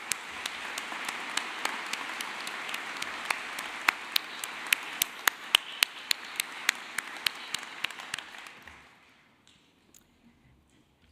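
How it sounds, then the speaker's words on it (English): Audience applause at a university commencement ceremony, a dense steady wash of clapping with a few sharp, close individual claps standing out, holding for about eight seconds before fading quickly into near silence. "Let's give him a round of applause."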